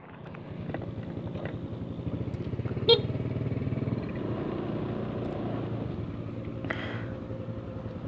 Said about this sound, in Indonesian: Ini saya pakai motor Scoopy.